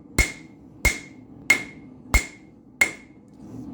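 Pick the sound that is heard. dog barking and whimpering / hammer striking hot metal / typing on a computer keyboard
hammer striking hot metal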